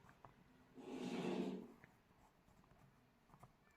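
Pen or pencil writing by hand as land measurements are noted down, a steady close scratching stroke lasting about a second in a quiet room.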